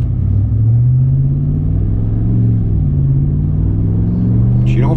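A lifted Ram Classic pickup with a Hemi engine and big wheels and tires rumbles steadily on a test drive, a loud low drone with gently shifting pitch heard from close by, with no voices.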